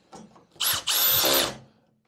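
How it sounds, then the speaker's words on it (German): Power drill driving screws to fasten cable ducts for an electrical distribution setup, two bursts: a short whir then a longer sustained whine that winds down, close and loud with no talk. "Das heißt, wir schrauben das jetzt hier auf dieser Seite einmal alles fest"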